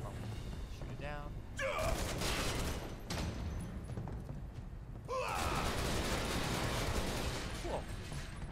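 Gunfire in the Final Fantasy VII Remake video game, Barrett shooting down an enemy: dense, sustained rattling bursts with sharp onsets, over game music and effects, with a person talking alongside.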